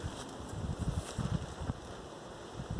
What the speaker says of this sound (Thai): ลมยังมาแห้งคักแห้งเนี่ย